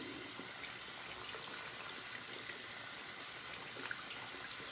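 Steady running water from a tap while a face is rinsed after a shave, a continuous broadband wash at moderate distance with no talking.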